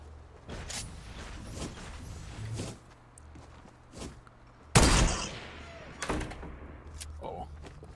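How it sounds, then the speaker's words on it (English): Fortnite gunfire in bursts: sharp reports scattered through the stretch, with one loud close blast near the middle and more shots after it, mixed with footstep-like thuds and game clatter. "They know we're shooting."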